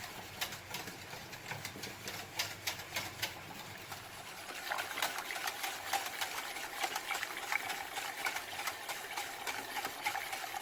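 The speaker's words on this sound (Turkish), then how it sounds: "Bu aşamada pudingimi, muhallebimi kaynatmaya ve karıştırmaya devam ediyorum." A pot of muhallebi pudding bubbles and is stirred continuously, making a rapid rhythmic scraping and clicking that gets louder midway, over a faint low hum.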